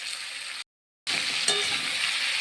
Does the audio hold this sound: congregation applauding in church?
no